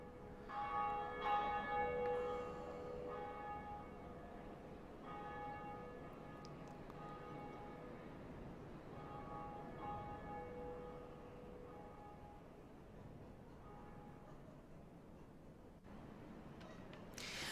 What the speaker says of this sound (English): We have rang the first bell of awakening.